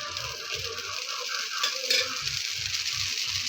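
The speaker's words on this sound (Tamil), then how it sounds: "இப்போது நெக்ஸ்ட் தோசையை ஊற்றிக்கலாம். எண்ணெயை ஊற்றிக்கலாம்." Dosa batter and oil poured onto a hot pan give a steady bright sizzle that swells briefly midway, while a soft rhythmic low thumping, like background music, pulses underneath.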